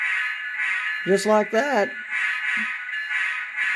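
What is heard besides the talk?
model Union Pacific locomotive ESU Lok Sound decoder pulling out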